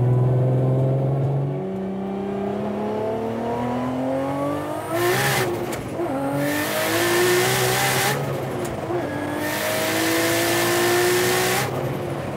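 A Porsche 911 Turbo S accelerating hard from 100 to 200 km/h, the engine note climbing steadily in pitch through several gear changes, with brief drops and renewed rises, loud and close from inside the car.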